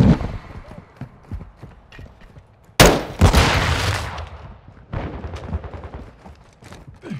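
Bursts of automatic gunfire in Call of Duty: Modern Warfare II, with a loud volley breaking out midway after scattered shots, mixed with battle noise and voices calling out.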